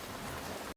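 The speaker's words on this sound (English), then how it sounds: "It's still pissing rain outside" Heavy rain falls outside a 1978 Dodge Tioga II motorhome, a steady dense hiss of drops hitting surfaces that holds at an even level for under a second before cutting off abruptly. No one speaks.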